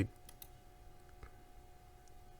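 A single computer mouse click, sharp and close at the very start, then faint small ticks in a quiet room.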